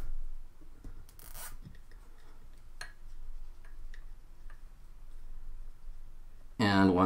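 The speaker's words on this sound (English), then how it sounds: "And now fasten another zip tie." A zip tie is fastened onto bagpipe drone cords, producing faint rapid ratcheting ticks and small rubbing clicks close by, with a louder zipping pull at the end and a voice talking throughout.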